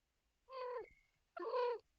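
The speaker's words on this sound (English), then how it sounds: "Are you making cute kitty noises?" A female cat in heat makes two drawn-out yowling cries, close and clear, separated by a short pause, with near silence around them.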